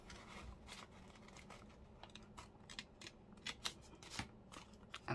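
Scissors snip through paper while trimming an envelope flip-out pocket for an ephemera project, a few quiet crisp cuts that cluster toward the end over faint background rustle, close and soft.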